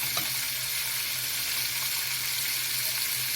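Rice sizzles and fries in hot oil in a pan, a steady, close, hissing crackle that holds evenly throughout with a faint low hum beneath.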